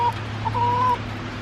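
A hen in a chicken coop gives a short, close cluck followed by a longer drawn-out clucking call over a low background hum.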